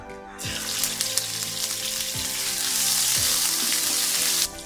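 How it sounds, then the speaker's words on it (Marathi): Ginger garlic paste hits a pan of hot oil and sizzles loudly and continuously, with a few scraping clinks of a spoon, before stopping suddenly at the end. "पॅन तापलेला आहे, एक मोठा चमचा तेल घालूया। आलं लसूण पेस्ट,"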